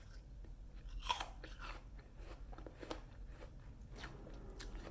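Close, quiet crunching of food being chewed during mindful eating, with irregular bites and crisp snaps repeating over several seconds and no talk.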